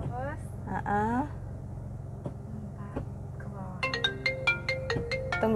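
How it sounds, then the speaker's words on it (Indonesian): A mobile phone ringtone plays inside a car during a manual driving lesson, a faint melodic sequence that builds into a rhythmic run of repeated bright tones over a low engine hum, with talk in the background. "Tunggu ya, terima telepon dulu."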